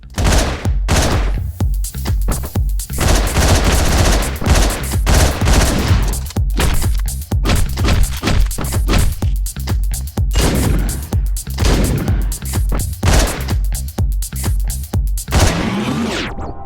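Rapid gunfire in the video game Hotline Miami, a loud, dense run of sharp shots and bursts that keeps going almost without pause and ends in a final crash.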